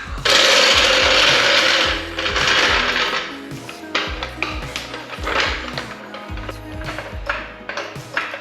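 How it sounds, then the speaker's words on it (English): A car jack being worked under a wheel during rally car prep, with a run of ratcheting, clicking metal mechanism sounds and clanks, close and loud, in irregular bursts. "I'm gonna get the jack under the wheel"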